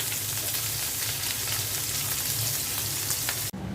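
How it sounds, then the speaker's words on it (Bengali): Dried fish frying in hot mustard oil crackles in a steady, dense sizzle up close. The sound stops abruptly near the end. "এখন আমি শুটকিটা সরিষার তেলে ভেজে নিব।"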